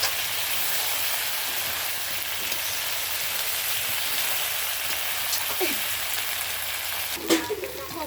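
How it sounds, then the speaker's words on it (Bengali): Chicken is fried with pre-fried potatoes in a pan for chicken kosha, a steady close sizzle with occasional stirring scrapes and a sharper clink near the end. "এখন আমরা আগে থেকে ভেজে রাখা আলুগুলো দিয়ে দিচ্ছি মাংসতে দিয়ে এখন নেড়ে কষিয়ে নেবো"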